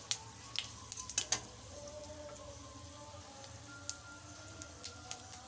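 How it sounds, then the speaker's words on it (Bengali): Panch phoron five-spice tempering fries in hot oil with a soft, steady sizzle, broken by a few sharp crackles and pops near the start and scattered light ticks later. "এবার ফোড়নটা একটু ভেজে নিয়ে"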